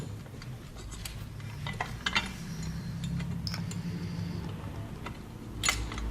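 Metal ratcheting and wrench clicks tighten the bottom nut on an Indian Scout exhaust pipe, soft and close, with a few sharper taps over a low background hum.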